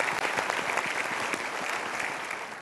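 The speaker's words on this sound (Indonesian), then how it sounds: "Tepuk tangan ya." A studio audience at a live talk show applauds a guest from Bogor. Dense, steady clapping fills the room at a fairly even level, then eases slightly near the end.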